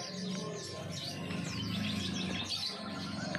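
A caged jalak kapas, the white-headed starling, calls in a series of quick chirps and whistled notes over a low, steady background hum, fairly faint and continuous with no talking.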